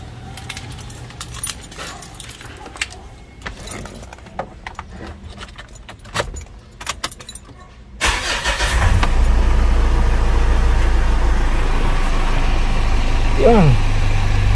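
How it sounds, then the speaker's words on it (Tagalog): A car engine cranks and catches partway through, then settles into a steady loud idle after jangling keys and small handling clicks, while a person talks. "Okay, start natin ang makina."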